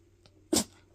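A chihuahua gives one short, sharp sneeze, close and fairly loud against a quiet background, followed by the start of another sound.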